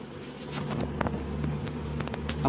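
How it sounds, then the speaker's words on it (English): A newly housed swarm of honey bees at a garden hive, a steady close buzzing drone with individual bees zipping past the microphone, light wind noise underneath. "So these are the new bees"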